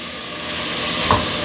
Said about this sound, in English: I hear my sizzle coming up